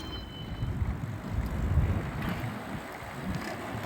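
Steady wind rushes past while cycling in Yiwu, China, a continuous low roar buffeting close to the microphone, swelling slightly and then holding even throughout.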